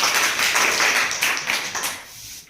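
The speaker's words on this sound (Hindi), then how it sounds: "एक बार इसके लिए जोरदार ताली" Audience applause fills a school science quiz competition, a dense, steady patter of many hands clapping fairly loudly for a contestant, then thinning out toward the end.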